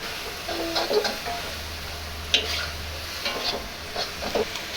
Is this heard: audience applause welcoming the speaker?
no